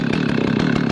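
A chainsaw is revved hard against a tree trunk while its chain oiling is checked, a loud, close, steady buzzing engine roar held at high speed throughout.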